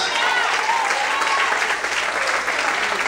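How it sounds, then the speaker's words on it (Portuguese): A church congregation applauding loudly during a sermon, a thick continuous wash of clapping with some voices mixed in, close and steady throughout. "glorifique e aplauda o nome de Deus bem forte"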